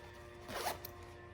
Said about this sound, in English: zip this all the way down